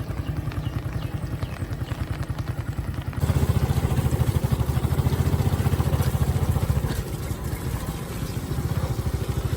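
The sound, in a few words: motorcycle engine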